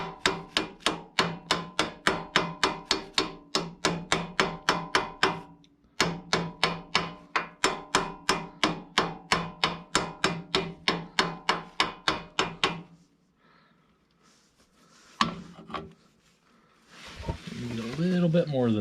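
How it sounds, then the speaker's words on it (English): A hammer taps repeatedly on a rear brake part of a 1974 MG Midget, a long run of sharp, evenly spaced metallic blows close up, then a pause, a single knock and some rustling. "Give this a little bit of a tap."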